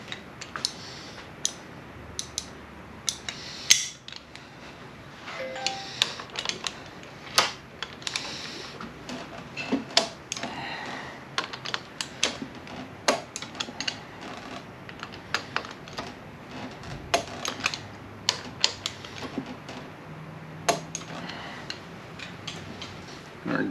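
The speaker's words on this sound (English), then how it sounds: "Can engage that into park so we can torque our bolts." Bolts being torqued on a 1962 Roto Hydramatic transmission, heard as a long run of sharp ratchet ticks and metallic clicks in irregular bursts, close by, with occasional brief talk.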